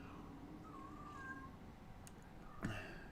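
A cat lets out a couple of faint, plaintive meows indoors over a low steady background hum, the clearer cry coming near the end.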